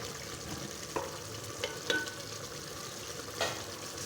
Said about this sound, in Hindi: अब हम इसमें 1 पाव घी डालेंगे और इसको अच्छी तरह से भून लेंगे।